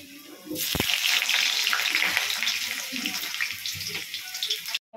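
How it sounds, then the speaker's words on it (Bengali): Potatoes for a Bengali chicken curry sizzle in hot oil, a loud steady hiss that starts abruptly after a brief pause and runs on before cutting off near the end. "প্রথমে চিকেনের আলুটা ভেজে নিচ্ছি, লাল করে চিকেনের আলুটা ভেজে তুলে নেব।"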